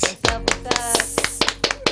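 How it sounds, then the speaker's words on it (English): A small group claps to welcome a guest onto a hip hop show, quick uneven claps that are close and fairly sparse, lasting under two seconds. "a big welcome, a big round of applause to Lihot"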